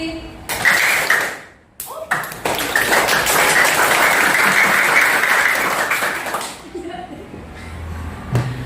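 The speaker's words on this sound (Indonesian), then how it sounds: "Tepuk tangan mau sampai besok juga nggak berhenti" Students in a classroom clap their hands in a loud, dense burst of applause that swells and holds for several seconds, then breaks off abruptly, with a few stray claps and taps after.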